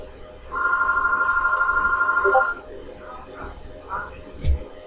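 A telephone rings with a steady trilling electronic tone lasting about two seconds, fairly loud and close, followed by quiet room sounds and a brief knock.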